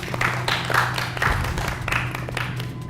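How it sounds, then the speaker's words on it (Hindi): A group of models on an entertainment show claps for themselves in a lively, fairly rhythmic burst of applause, many hands beating together steadily over a faint low hum. "अपने लिए आप तालियां बजा सकते हैं।"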